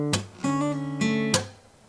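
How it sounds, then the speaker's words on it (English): Acoustic guitar strings slapped percussively as a backbeat in a strummed pattern, sharp clicks interleaved with ringing sustained chords, close and fairly quiet. "I'm actually going to be kind of creating a little backbeat by slapping"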